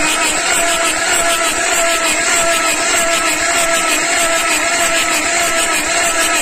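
A 2012 Fiat Ducato engine cranks continuously during a compression test, giving a loud, steady, buzzing drone that stays even from start to finish with no talk over it.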